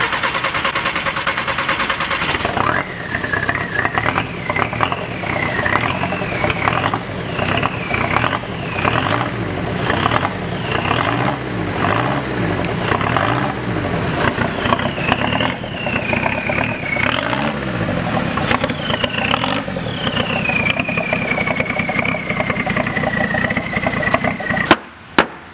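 A heavy Cummins diesel engine in a car cranks and catches, then settles into a loud, rattling idle with clattering pulses and occasional revs before cutting off at the end.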